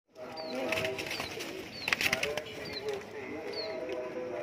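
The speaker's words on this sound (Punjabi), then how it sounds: "ਦੇਖੋ ਟੈਡੀ ਕਬੂਤਰ ਬਾਈ, ਸ਼ੌਂਕ ਕਰੋ ਟੈਡੀਆਂ ਦਾ ਬਾਈ" Teddy pigeons for sale at a bird market give low, repeated cooing through the whole stretch, near and moderately loud, with scattered chirps and a busy background of crowd noise.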